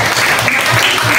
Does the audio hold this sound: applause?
yes